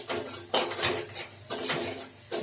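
Semolina frying in a kadai pan for Bengali-style sujir halwa, stirred with a metal spoon that scrapes and clinks against the pan in a few irregular bursts, close and fairly quiet.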